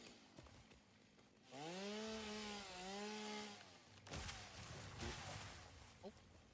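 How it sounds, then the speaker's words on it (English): Chainsaw felling trees in the video game Satisfactory, a revving engine whine rising and bending for a few seconds amid a dense, noisy game soundscape. "And then I need a chainsaw."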